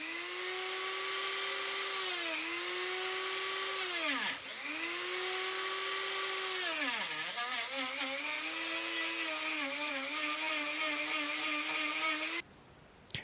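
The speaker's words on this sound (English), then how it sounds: "I had to use my Dremel with a little drum sanding bit in order to clean some of the built-up finish in the holes" A Dremel rotary tool fitted with a small drum sanding bit clears built-up finish from bolt holes in a wooden bass guitar body. Its high, steady whine sags in pitch several times as the bit bites, close and continuous before cutting off.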